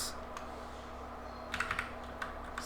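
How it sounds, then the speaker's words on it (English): Quiet, close typing on a computer keyboard during coding work, a short burst of light key clicks clustered near the end after a near-silent stretch. "let me start typing"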